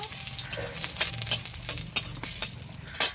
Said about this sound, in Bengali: সামান্য পরিমাণ তেল দিলাম, তেজপাতা, দুটো শুকনো লঙ্কা